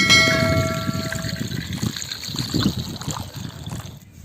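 Mushrooms being rinsed by hand in Kollidam river water in a village, with steady splashing and trickling water up close, plus a faint high tone fading early.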